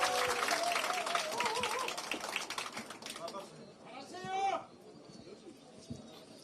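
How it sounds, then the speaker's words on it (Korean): A crowd at a political rally in Gangwon, South Korea, breaks into loud clapping and cheering that fades out over a few seconds, followed by a brief shout and then quieter ambience. "우리 홍천, 횡성, 영월, 평창 여러분 큰 박수로 함께 격려를 해주시기 바랍니다."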